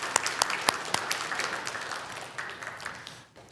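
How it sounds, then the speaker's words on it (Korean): A church congregation at a Sunday service claps together, a burst of distinct hand claps that thins into scattered applause and fades out. "우리 큰 박수로 한번 격려를 하겠습니다."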